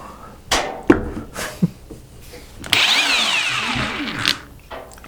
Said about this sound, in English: we have an impact driver gun, which we bought to do automotive work primarily